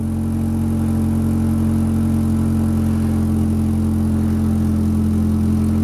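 A Ford Ranger pickup with a misfire and high mileage idles up close, a loud, steady engine drone with strong low harmonics throughout and no one speaking.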